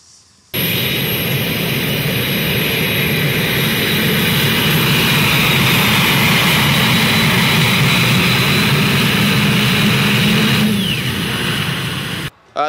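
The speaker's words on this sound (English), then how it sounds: "The motor is from a 1945 P-39 aircraft." A pulling tractor powered by a 1945 P-39 aircraft engine, built by agricultural engineering students, roars loudly and steadily at a tractor pull for most of the span, then the sound drops away near the end.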